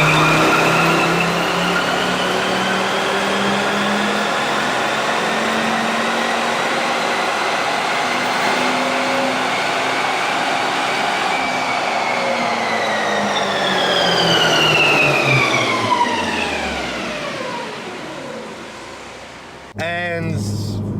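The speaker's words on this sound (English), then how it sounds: "got on the dyno, did a pull" A Volvo C30 with a boost problem makes a full-throttle dyno pull, its engine climbing in pitch, then winding back down near the end, loud and continuous.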